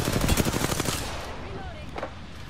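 Rapid automatic gunfire bursts from the shooter game Apex Legends, a quick rattling volley in the first second that trails off into quieter game ambience with a faint later shot.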